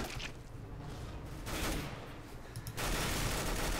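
An LMG machine gun spraying in Counter-Strike: Global Offensive Arms Race mode, a dense continuous rattle of automatic fire that swells louder toward the end, with no voices.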